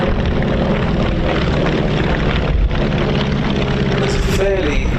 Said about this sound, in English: Have a listen to the engine note on these aircraft. It is distinctive.